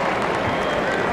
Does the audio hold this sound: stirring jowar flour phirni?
no